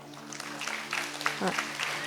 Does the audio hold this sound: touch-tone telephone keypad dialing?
no